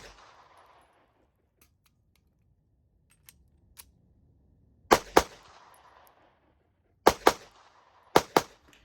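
Three sharp pairs of gunshots from a 10mm pistol fired at an outdoor range, each quick double shot loud and close with a short ringing tail, preceded by a few faint clicks and near silence.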